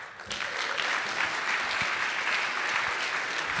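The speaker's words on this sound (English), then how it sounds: "let's get another round of applause for Young Guru" A conference audience claps for Young Guru in a steady, even wash of applause that swells in the first moment and then holds at a constant level, with no voices over it.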